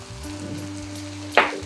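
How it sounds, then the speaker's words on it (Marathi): Tomato chutney, sweet and sour with jaggery, sautés in a pan with a low steady sizzle and faint tonal hum, then a brief sharp scrape or clatter near the end. "पुन्हा ही छान परतून घेणार आहे आपण।"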